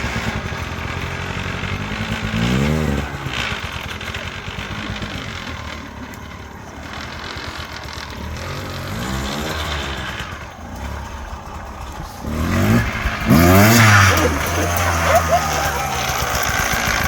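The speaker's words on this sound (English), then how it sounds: "That's definitely four-stroke versus two-cycle." Four-stroke engine of a small bike fitted with wheelie training wheels, running steadily with rising revs and a louder rev burst near the end, heard outdoors on a street with some voices.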